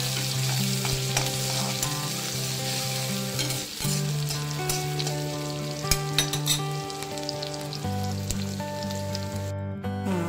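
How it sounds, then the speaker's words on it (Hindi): Onions fry in hot ghee with a dense, continuous crackling sizzle close by, steady throughout over soft background music. "प्याज को लाल होने तक भूनेंगे।"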